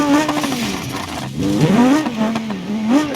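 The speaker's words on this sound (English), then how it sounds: "The car just sounds really good." A car engine and exhaust in the driving simulator game BeamNG.drive rev up and down in quick waves, a loud, close, rasping tone that rises and falls repeatedly with a hint of tire noise.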